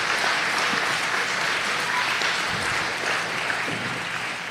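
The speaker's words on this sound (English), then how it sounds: "I would please ask for a round of applause for all of them that made this possible" Dense, sustained applause fills an athletics hall of fame ceremony at St. Augustine Prep, a large audience clapping evenly throughout without talk.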